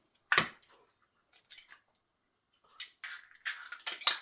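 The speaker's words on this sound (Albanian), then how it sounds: "Thyejmë 2 kokra vezë." Two eggs cracked at home for a zucchini byrek filling: a sharp crack near the start, then a few light shell taps and a quicker run of clicks and drips toward the end, close and alone with no talking.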